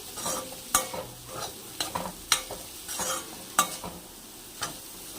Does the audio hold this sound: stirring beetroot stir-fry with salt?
yes